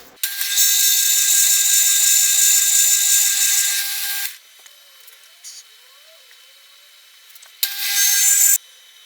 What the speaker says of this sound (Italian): l'ultima passata la faremo con la fresa normale perché questa era da sgrosso